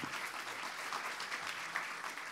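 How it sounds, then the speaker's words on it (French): An audience applauds at a conference event, dense steady clapping from many hands, sounding distant and fairly soft throughout. "On peut applaudir Marie, journaliste."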